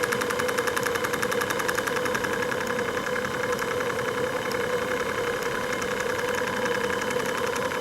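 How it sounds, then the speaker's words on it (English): A steam engine idles at about 550 to 600 revs, giving a steady, even ticking rhythm with a faint mechanical hum under it, moderately close and unbroken. "The engine appears to be just ticking over, but it's probably sitting on around 550"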